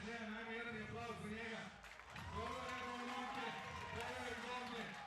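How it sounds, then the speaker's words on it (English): A crowd at a Euro Beach Soccer League match in Belgrade, Czech Republic against Serbia, swells into a sustained roar and cheer, loud and continuous, with a commentator talking over it. "Big cheer."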